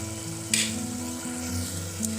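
Ginger-garlic paste hits hot oil in a cooking pan and sizzles softly and steadily, with a couple of sharper spatters or stirring scrapes standing out briefly against a low background hum.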